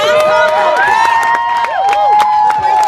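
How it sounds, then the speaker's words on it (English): A crowd at a Puerto Rico protest over the slow hurricane response cheers loudly and nearby. Whistles, rising shouts and sharp scattered claps overlap in a dense, continuous roar, with voices mixed in. "You can hear people cheering."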